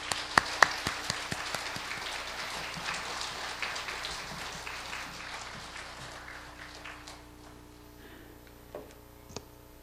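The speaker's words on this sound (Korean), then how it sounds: "여러분들 사랑과 감사의 마음 담아서 환영의 박수" A church audience gives welcoming applause for a conductor at a mothers' prayer gathering, soft and somewhat distant, with scattered claps that thin out and fade over several seconds.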